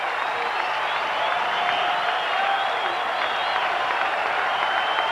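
Stadium crowd noise from a 1998 MLB game between San Francisco and Milwaukee, fans on their feet in the ninth inning, a steady roaring wash of cheers and scattered applause sustained throughout without pause.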